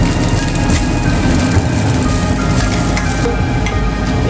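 Fried rice sizzles loudly and steadily in a hot pan for a quick dinner, a dense continuous crackle with faint scraping from stirring and no talk.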